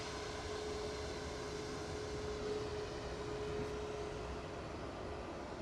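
A TUI Boeing 737 Max 8 jet departing Manchester Airport, heard as a steady broadband engine roar with a faint high whine, continuous and fairly distant.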